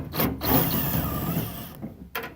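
Socket wrench turning a nut off the exterior door handle of a Suzuki Sidekick, a close, gritty rubbing and scraping of metal that runs steadily, then breaks off into a couple of short clicks.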